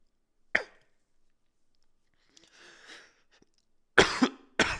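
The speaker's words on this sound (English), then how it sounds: "Sorry for coughing." Three short, sharp coughs stand out against near silence, one early and a quick pair at the end, close to the microphone, with a faint murmur in between.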